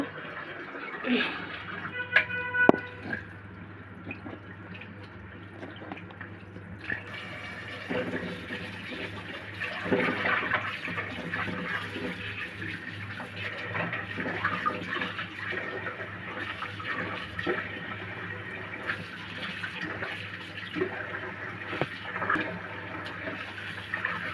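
Cut hilsa fish pieces, some with roe, are rinsed under water with steady running and splashing, light handling noises and muffled voices in the background.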